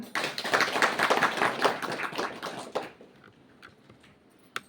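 A short burst of applause from a small group, lively clapping for a few seconds before it fades into quiet with a couple of stray claps.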